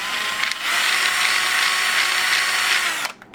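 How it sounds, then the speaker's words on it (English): A power drill with a 3/16 inch bit whirs steadily at high speed for about three seconds while drilling out holes in a 3D-printed part, then cuts off abruptly. "You shall now drill the holes out with a 3/16 inch drill bit."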